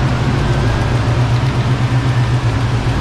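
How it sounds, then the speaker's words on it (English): Turbocharged LS-engined stick-shift car running with an exhaust leak, a steady loud low idle rumble with a raspy ticking edge, continuous and close with no talking. "Still got the exhaust leak."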